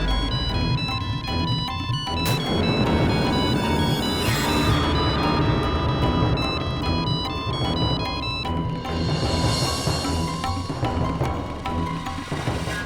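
A mobile phone rings in a home during a meal, its electronic ringtone playing steadily and fairly loudly over background music for several seconds, with a brief burst of speech partway through.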